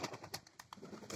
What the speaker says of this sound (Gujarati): કબૂતરા છે.